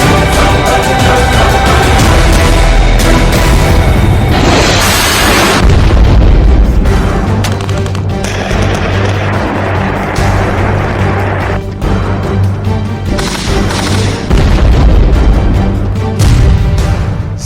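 Bomb explosions from the Russia–Ukraine war, with loud, heavy booms and rumbling blasts repeating throughout, punctuated by several sharp, prominent detonations.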